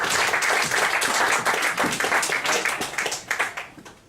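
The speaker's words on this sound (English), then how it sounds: "Give them a round of applause." A live audience at a mentalism stage show claps as volunteers come up: dense, sustained applause filling the room, close and fairly loud, tapering off at the end.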